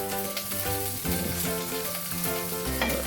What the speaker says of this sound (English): Put little cooking oil into the pan and add